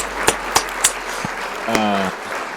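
A few sharp, scattered hand claps sound out, followed by a brief voice, rather than a full round of applause.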